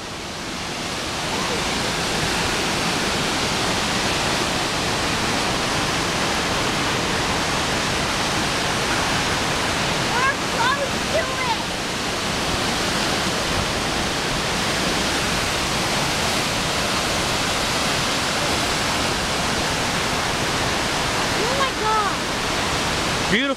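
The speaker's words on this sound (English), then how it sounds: "Now check out this waterfall." Loud, constant roar of Fall Creek Falls, a 256-foot waterfall, broad rushing noise filling the scene, with faint voices briefly audible beneath it.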